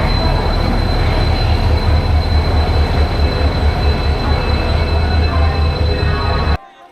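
A Howrah–Chakradharpur Express rolls into a station at night with a loud, steady rumble of wheels and a thin high squeal from the rails, continuing for several seconds before cutting off abruptly.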